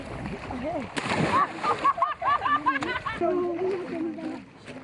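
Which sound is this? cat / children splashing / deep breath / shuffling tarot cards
children splashing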